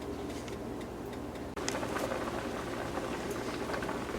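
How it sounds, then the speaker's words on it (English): Water bubbles and burbles at a rolling boil in a pan, a steady close bubbling that briefly drops out and then resumes louder. "you can see we have it boiling now"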